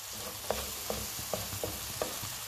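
Shallot frying in olive oil in a pan that just cooked fish, a steady sizzle with five evenly spaced light spoon taps, close and unaccompanied by talk.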